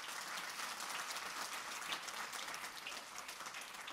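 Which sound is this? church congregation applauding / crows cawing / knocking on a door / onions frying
church congregation applauding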